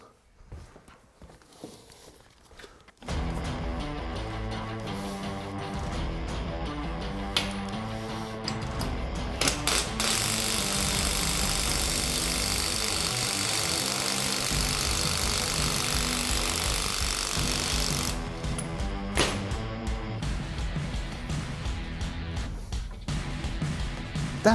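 A loud, sustained mechanical hammering rattle from an ADS-20 ST impact wrench working a bolt loose starts abruptly after a quiet moment and runs continuously, with a harsh high-pitched stretch in the middle.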